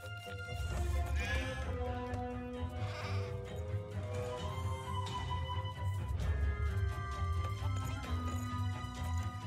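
Sheep bleat repeatedly in the Craft the World video game, layered over steady background game music, with the wavering cries rising at intervals throughout.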